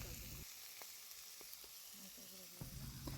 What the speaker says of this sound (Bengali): এখন আমি ভালো করে নাড়াচাড়া করে মশলার সঙ্গে লঙ্কা গুঁড়ো মিশিয়ে দিচ্ছি।